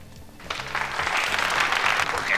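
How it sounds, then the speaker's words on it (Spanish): Applause from a television studio audience at a Spanish sitcom taping, starting after a short lull and building into a loud, steady wash of clapping that holds to the end. "Porque la aplauden."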